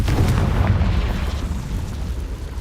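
A Confringo blasting spell goes off in Hogwarts Legacy, a heavy booming explosion that rumbles low and loud for a couple of seconds with no one speaking.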